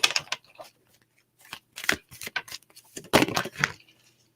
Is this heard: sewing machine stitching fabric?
no